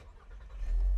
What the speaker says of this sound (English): And we've got ignition.